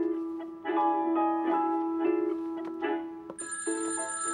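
A telephone rings with a steady electronic tone, loud and close, and a higher-pitched ring joins near the end.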